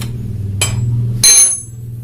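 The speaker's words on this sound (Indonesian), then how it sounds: "kunci 19 untuk menahan bagian dalam sini, dan kunci 14 untuk memutar baut asnya" Wrenches, a 19 mm and a 14 mm, work a motorcycle rear axle nut while the chain is adjusted. Two sharp metallic clinks ring out close by over a low steady hum.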